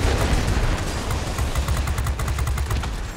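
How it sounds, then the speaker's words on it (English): Lightweight bombs dropping and exploding in World of Warplanes, a dense, loud barrage of rumbling blasts with rapid gunfire crackle layered over the top throughout. "here, have some lightweight bombs."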